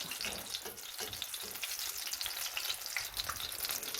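Empanadas frying in a pan of hot oil give a steady, dense sizzle and crackle with small bubbling pops, close up and continuous, with no voices.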